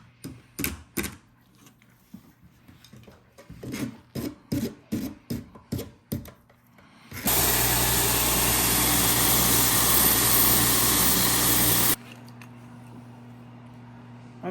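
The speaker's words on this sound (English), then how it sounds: "I'm going to take a file and just round this off." A hand file rasps in short rhythmic strokes across a wooden peppermill part held in a vise, about a dozen close strokes, followed by a loud steady machine roar that cuts off abruptly, leaving a low hum.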